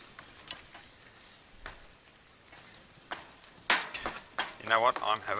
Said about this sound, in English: Oh, now that's sizzling.